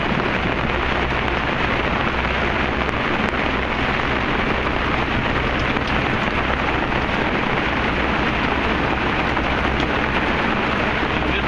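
Heavy rain from a storm cell pours down steadily at sea aboard a sailboat, a dense, continuous roar of drops drumming on surfaces with no pauses and no voices.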